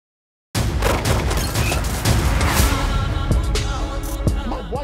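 A breaching charge detonates in an action film trailer, a sudden loud blast cutting in from silence and followed by dense, crackling rumble and scattered bangs that stay loud for several seconds.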